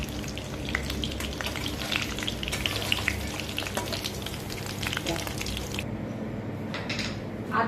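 Food dropped into hot oil crackles and sizzles loudly and continuously nearby, with bursts of spattering; the frying quiets noticeably toward the end.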